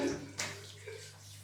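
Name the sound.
rinsing Gillette Tech razor under water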